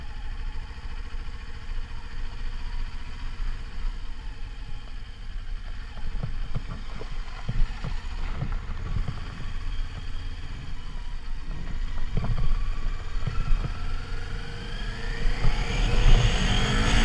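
Kawasaki Ninja 400 motorcycle engine on the street, idling and then revving with rising pitch, the engine sound growing louder toward the end amid wind and road noise.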